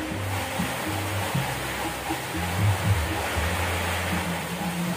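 A steady, hissing spray of water rinses mold-removal cleaner off a car, running continuously with a faint low hum beneath it.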